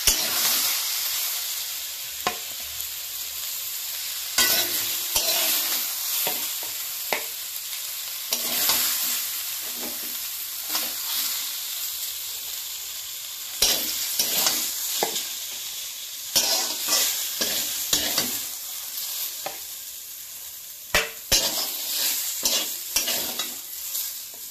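Sujni greens stir-fry in a pan, a continuous sizzle broken by frequent scraping and clattering strokes of the spatula, close and fairly loud with no voices.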